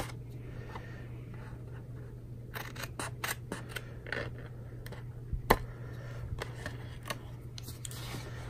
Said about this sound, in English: we're going to go ahead and snip them a little bit